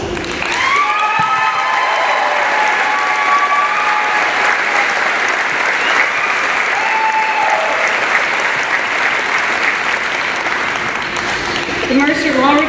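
Sustained, dense applause from a large audience at a law school commencement ceremony, steady and loud for the whole stretch, with a few faint cheers and voices mixed into the clapping.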